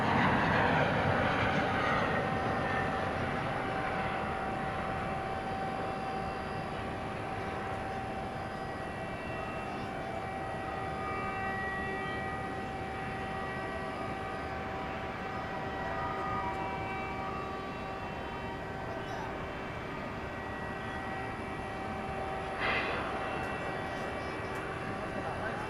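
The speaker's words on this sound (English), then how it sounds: "I think this is flight 2597 to Burbank, a MAX 8." A Boeing 737 MAX 8 jet airliner at DFW Airport at night, a distant, steady engine drone with a sustained whine holding throughout, fairly faint.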